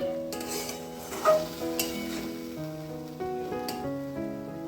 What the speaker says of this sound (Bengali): মিডিয়াম টু লো ফ্লেমে রেখে পটলকে খুব ভালোভাবে মশলার সাথে মিশিয়ে নিতে হবে